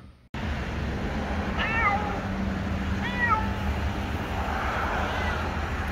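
A kitten meows during a vet trip, two or three short, plaintive, rising-falling cries over a steady rumble of background noise.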